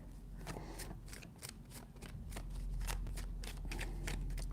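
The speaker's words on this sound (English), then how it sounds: "3 shuffles." Tarot cards are shuffled by hand in a series of quick riffling bursts, soft and close, with no speech.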